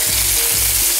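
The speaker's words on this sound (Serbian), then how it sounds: "I nakon 5 minuta prženja okrećemo krmenadle na drugu stranu i isto ih pržimo" Pork chops fry in a hot pan, a loud, steady crackling sizzle that carries through without pause, with a few soft shifting sounds as the meat moves.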